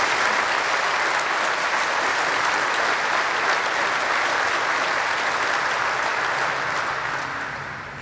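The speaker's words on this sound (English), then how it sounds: "So a huge round of applause." Sustained applause from a large audience at an outdoor middle school graduation ceremony, a steady dense clapping that fills the whole stretch and tapers off softly at the very end.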